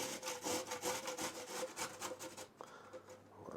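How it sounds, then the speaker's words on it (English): Vegetables being finely grated for coleslaw, a steady rhythmic rasping of repeated strokes close by that stops after a couple of seconds, leaving quieter handling noise. "I'm going to try to grate these, a fine grate, see what happens."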